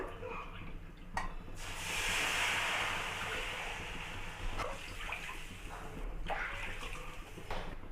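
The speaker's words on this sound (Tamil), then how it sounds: "ஒரு கப் ரவுக்கு மூணு கப் தண்ணி சேர்த்துக்குங்க" Water pours steadily into a pan for mango kesari, with a rushing, splashing hiss that swells and fades, close by, with a few clinks.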